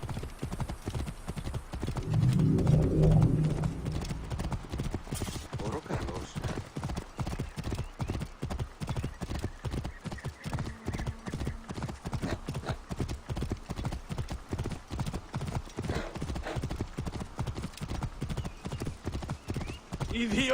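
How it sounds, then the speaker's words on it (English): In the video game Assassin's Creed Origins, a horse gallops with rapid, even clip-clop hoofbeats running throughout, plus a neigh near the start, while game voices talk over the hooves. "Get on our trusty steed."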